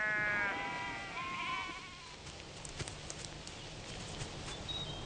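A sheep bleats at the start with a wavering cry, followed by fainter bleats and faint clip-clop-like knocks at a sheep station, no talk.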